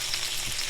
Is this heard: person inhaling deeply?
no